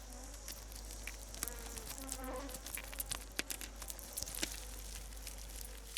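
Honeybees swarm inside their hive, a dense layered buzz of many wings close by, with soft crawling ticks and scattered louder flares over a constant low hum.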